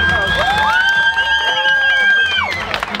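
Crowd of spectators and children at a street workout contest cheering and shouting loudly to vote for a contestant, with clapping, a sustained high whistle-like yell over continuous noisy crowd roar that tapers near the end.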